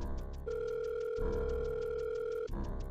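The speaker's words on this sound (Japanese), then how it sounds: "そして電話のコールが鳴ります。" Electronic phone ring tone in a horror-themed anti-piracy screen sequence from a Pokémon game: a steady sustained two-tone beep begins after half a second and holds for two seconds over a low background hum.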